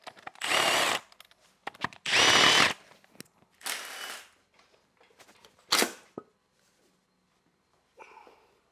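A power tool works on the cylinder head of an engine during removal: several short, loud bursts of whirring, each about half a second, separated by quieter clicks and handling noises, with one brief faint burst at the end.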